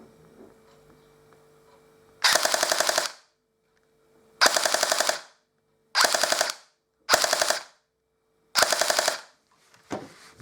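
A rewired CYMA Glock 18C AEG airsoft pistol on a 7.4 volt LiPo fires full-auto in five sharp rattling bursts of about a second each, loud and close, separated by silences, with a final short burst.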